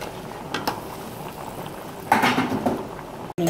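Tomato sauce for seafood spaghetti simmers in a pot with soft, irregular bubbling pops over a low background, and a few louder bursts and a light clink come near the end.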